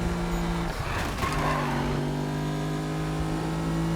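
Mercedes-AMG GT S engine drones steadily in Need for Speed 2015, its pitch dropping as the car shifts, with a brief tire skid partway through, loud and close throughout.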